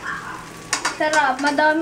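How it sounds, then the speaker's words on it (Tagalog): An omelette fries in a pan with a soft sizzle and scraping stir, while a person talks over it. "nagluluto nga pala ako ng omelette na"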